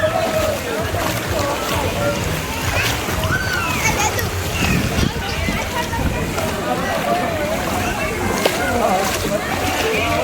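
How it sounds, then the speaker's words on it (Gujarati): Water splashes and sloshes in a water park pool, with irregular splashes and churning close by while children and other people talk and shout throughout. "આજે વોટર પાર્કની મજા"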